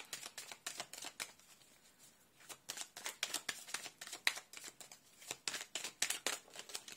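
Tarot cards drawn from a deck one after another make soft, close papery flicks and snaps in a quick, uneven rhythm, quiet throughout with no talking.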